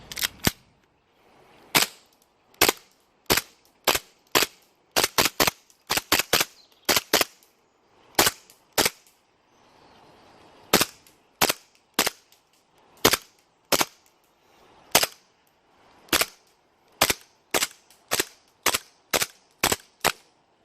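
WE Tech 5.1 series M1911 airsoft pistol, fitted with a Nine Ball piston O-ring, fires a full magazine: about thirty sharp, snappy cracks in an uneven rhythm with short pauses, close and loud, no talking.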